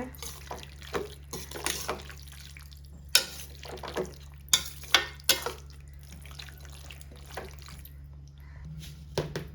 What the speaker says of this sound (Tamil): சேர்த்து நல்லா கிளறி விடுங்க.